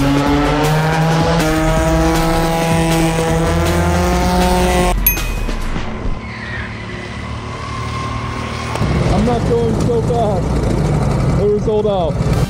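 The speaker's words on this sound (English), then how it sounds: "you can actually rent a sports car and drive around the F1 track" A sports car being driven around a Formula One track, its engine revving in a loud, rising harmonic whine before shifting into rougher road and tire noise, with a voice talking near the end.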